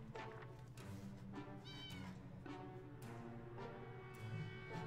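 A cat meows repeatedly in the video game 60 Seconds, several clear, tonal meows close up over a steady game background.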